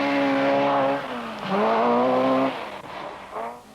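A rally car at the 1979 Lombard RAC Rally roars close by, its engine rising and falling through gear changes in a loud, continuous surge with a brief dip partway through.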